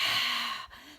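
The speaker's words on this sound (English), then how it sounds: "Just kind of huff and visualize different parts of your lungs that you're aiming to clear." A single forceful huff breathing exercise for clearing the lungs after abdominal surgery such as a cesarean, a long breathy exhalation that cuts off sharply, followed by a brief softer breath, close and alone.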